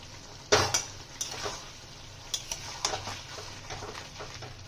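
Chicken masala with ginger paste and green chilli is stirred and sautéed in a pan, sharp metal spoon clinks and scrapes against the pan in an irregular rhythm over a soft sizzle.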